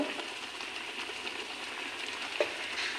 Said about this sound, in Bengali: মশলাটা মিশিয়ে নিই।